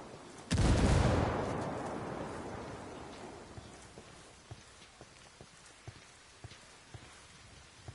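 A frag grenade explodes in a shooter video game: one sudden heavy blast that rolls off into a fading rumble. Scattered small ticks of debris follow over the next several seconds.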